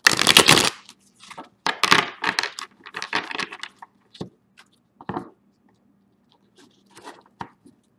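Tarot cards shuffled up close in a tarot reading, a loud burst of riffling followed by scattered crisp card slaps and taps that thin out into faint isolated clicks.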